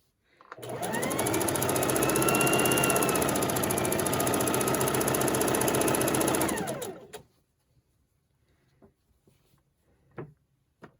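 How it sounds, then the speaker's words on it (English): A sewing machine stitches the long seam of a Christmas table runner, running loud and steady for about six seconds before stopping, followed by a few soft clicks and handling knocks. "you're just going to sew the length of the table runner here"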